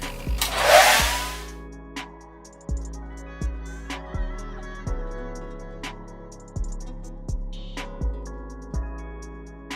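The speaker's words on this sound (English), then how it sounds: "I'm gonna go ahead and blow dry this one" A handheld hair blow dryer drying lace wig glue, switched on with a loud whooshing burst and then pulsed in short repeated bursts with brief pauses, close to the microphone.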